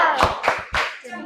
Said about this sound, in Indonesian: Kita kasih tepuk salut untuk kelompok 2.